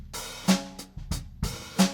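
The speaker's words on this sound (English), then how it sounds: "when you're playing a hi-hat lift on a beat" Sharp hi-hat strikes alternate with quick open-and-close lifts, giving a bright sizzling splash in a steady rhythmic pattern, close and clear.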